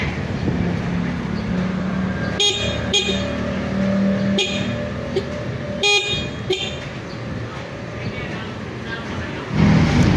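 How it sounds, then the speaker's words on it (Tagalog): A motorcycle horn gets tested with several short honks in separate bursts, heard close against steady background noise. "So ngayon try muna natin yung busina kung meron."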